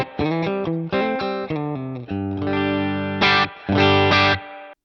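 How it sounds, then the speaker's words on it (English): Electric guitar played through a Boss Katana amp with its spring reverb setting, a run of distorted chords and single notes with short gaps and a lingering, natural-sounding spring tail, loud and close with no talking. "that's quite a natural guitar sounding reverb as we get springs on quite a lot of guitar amps"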